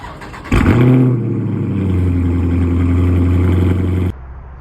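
A Dodge Charger Scat Pack's 6.4 liter V8 barks into a sharp rev, then holds a loud, steady, rumbling drone for about three seconds before cutting back to a quiet idle.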